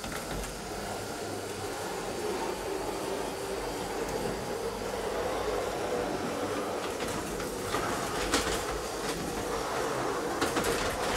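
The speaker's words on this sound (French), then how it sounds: "on va faire retourner la locomotive pour voir si ça reprend bien la boucle dans les 2 sens sans aucun problème" A model train locomotive runs around a loop of track in a layout, making a steady, close rolling rumble with faint clicks and rattles over about eleven seconds, with no talk.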